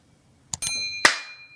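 A notification bell sound effect: a few quick clicks followed by a bright metallic ding that rings out and fades, clear and close against silence.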